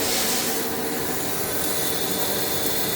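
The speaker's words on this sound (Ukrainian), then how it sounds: "Ріже наша ерозія отакі" An electrical discharge machine cuts hexagon shapes in metal with a loud, steady, broadband hiss and rush that runs unbroken throughout, close up, with no talking.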